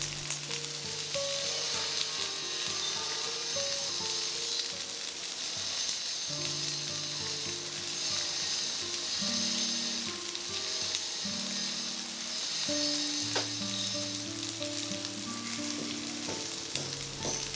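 Paneer tikka frying in butter in a pan, a steady, fairly quiet sizzle that runs continuously throughout with soft crackling and no voices.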